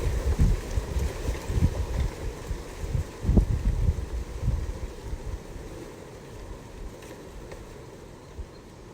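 Gusts of wind in an outdoor nature setting, buffeting low and rough in surges that are strongest early, then ease to a quieter steady rush, with no other sounds standing out.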